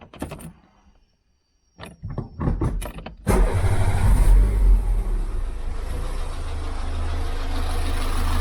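A Peugeot 106 Sport engine with a newly replaced head gasket cranks over with a few short bursts, then catches and settles into a loud, steady idle that holds to the end.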